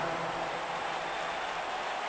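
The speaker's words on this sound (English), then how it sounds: "It's the sound of the cicada emerging after years of slumber from their underground existence." Steady high-pitched insect drone of a cicada in the wrestling game WWE 2K19, a continuous hissing buzz that holds at an even level throughout, with no talking over it.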